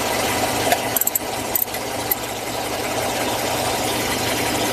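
Engine of a Dodge Durango idling in a garage, heard from underneath the vehicle as a steady low rumble and hum, with a few sharp metallic clicks and taps near the start and no talk.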